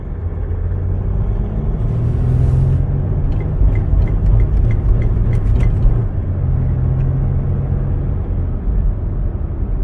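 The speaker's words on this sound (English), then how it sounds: "So I'm going to get off this gravel road and onto a pavement. Okay, so I'm going to accelerate fairly heavily now." A 2008 Mercedes-Benz ML320 with a hesitation and surge fault accelerates hard on pavement, its engine a steady, loud low rumble throughout with a brief surge of noise partway through.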